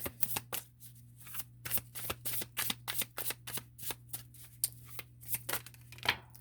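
A deck of tarot cards is shuffled close up in a steady, rapid series of riffling flicks and soft slaps that carry on without a break, with no voices.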